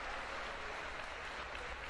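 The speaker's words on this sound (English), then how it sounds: "Un aplauso, por favor." Crowd applause in a kickboxing event hall, continuous broadband clapping from many hands, even and sustained with no pauses.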